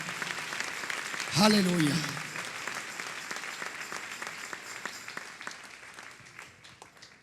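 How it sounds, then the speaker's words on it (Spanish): A church congregation breaks into applause during a sermon, a dense patter of many hands that swells after a single shouted voice, then gradually thins out and fades. "Dale un aplauso al Rey."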